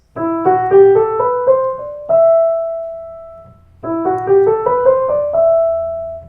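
Keyboard notes climb one by one through the E natural minor scale to a held top note, then the same ascending run repeats, clear and close with no voices.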